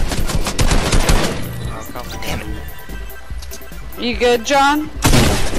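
Rapid bursts of gunfire in Fortnite, loud and close, rattling at the start and again at the very end, with a brief spoken question in the middle stretch.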